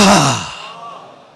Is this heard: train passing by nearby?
no